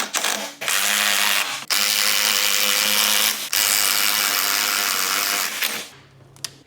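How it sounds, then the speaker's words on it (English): A power drill drives a bolt through a steel bracket on a Colorado ZR2 truck to cut threads, whirring loud and steady in three long runs separated by brief stops, ending with a short quieter burst. "So I'm just driving the bolt back and through here, making threads in it."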